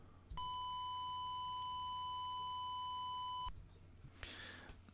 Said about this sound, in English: My original test tone was a 32-bit floating point file, and I'm playing it to you at 8 and 16 bits